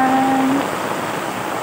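Heavy rain falling, a steady dense hiss that fills the clip, with a brief tonal whine fading in the first half second.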